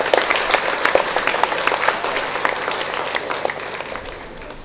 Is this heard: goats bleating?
no